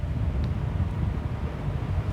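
An electric fan blows indoors, a steady, close, low whooshing rush of air that holds constant throughout with no breaks.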